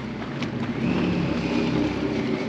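A small boat's engine accelerating in the harbour at Courseulles, a steady close drone that rises slightly in strength partway through, with no voices over it.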